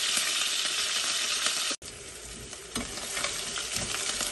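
Crushed garlic and curry leaves hit hot oil in a pan for mutton kuzhambu, a steady close sizzle with a brief drop-out partway, then frying resumes with light stirring noise throughout.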